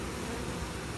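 A swarm of bees being rescued in Penticton, heard as a steady, continuous buzzing drone with no clear breaks.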